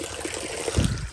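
Cold spring water trickles steadily on a hillside hiking trail above Kathmandu, with a slightly fuller splash near the end of the short stretch; no one speaks.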